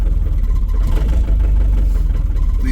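A cold, cranky engine on winter equipment catches after a snowstorm and settles into a loud, close idle, a steady low mechanical chug with light clatter and no pauses.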